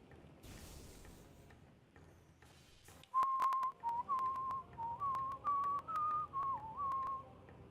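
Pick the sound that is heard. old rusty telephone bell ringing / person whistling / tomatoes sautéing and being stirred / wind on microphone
person whistling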